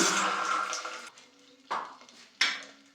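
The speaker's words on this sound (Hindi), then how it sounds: "और फिर डाल देंगे यहाँ पे पानी।" Water splashes into a pan in short bursts, a steady pour followed by two quick sloshes, with light clinks of metal.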